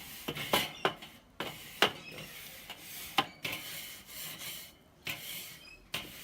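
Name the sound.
scrubbing barbecue grates clean with scrunched foil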